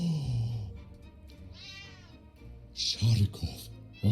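An angry house cat in a video game lets out drawn meows and yowls, partly under a person talking over it, with louder bursts near the end.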